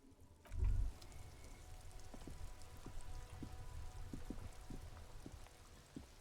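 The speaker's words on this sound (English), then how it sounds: "This rain will not let up anytime soon." Rain falls steadily in the Disco Elysium video game, a soft, faint patter of scattered droplets with an occasional louder splash, continuous and quiet throughout, with no voices.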